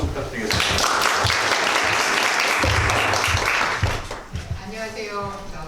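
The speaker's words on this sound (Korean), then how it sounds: "박수 부탁드리겠습니다." An audience at a Korean presentation event applauds to welcome a speaker, steady dense clapping that fades around the four-second mark, with voices and some talk emerging near the end.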